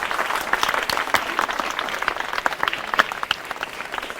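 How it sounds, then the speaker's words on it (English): Students applaud the winning house of a class 7 and 8 school general-knowledge quiz, a steady patter of many hands clapping at moderate distance, with no voices. "So please clap for them."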